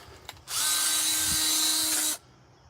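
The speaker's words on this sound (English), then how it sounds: "This we're just going to use a hole saw." A DeWalt power drill spins up and whines steadily with a hole saw for about a second and a half, then stops abruptly. No one speaks.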